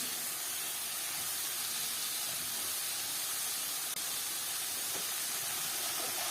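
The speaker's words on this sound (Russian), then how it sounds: "Пока мое мясо обжаривается, шкварчит" Chicken breast frying in a pan gives off a steady, dense sizzle that holds at an even level throughout, with no voices.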